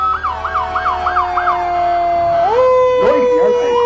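Rescue 108, a fire rescue truck in a firemen's parade, sounds its siren nearby: a rapid yelping warble for about a second and a half, then a long rising wail and another burst of fast yelps, loud and continuous.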